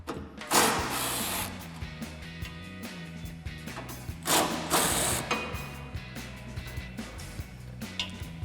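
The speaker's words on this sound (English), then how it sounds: "we're gonna grab our impact and 10mm socket and remove our two bolts" An impact wrench with a 10mm socket removes bolts from a rear bumper plate on a 2010-2018 RAM 2500, giving several short loud rattling bursts separated by pauses and small clicks.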